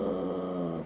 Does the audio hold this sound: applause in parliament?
no